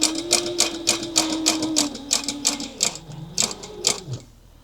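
Sewing machine stitching a clutch wallet at a longer stitch length with its bobbin running low, a rapid, steady rhythm of close mechanical ticks that slows and winds down near the end.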